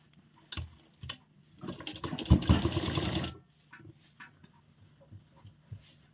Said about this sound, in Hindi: सेम अब दूसरी साइड भी इसी तरह पकड़ते हुए हम सिलाई लगाएंगे।